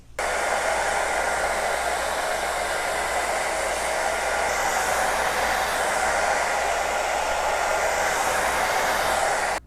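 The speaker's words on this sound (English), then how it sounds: "give this a little bit of a hit with a blow dryer" A hair dryer blows steadily and loudly the whole time, heating an anti-fog visor insert, a constant rushing whoosh with a low motor hum underneath.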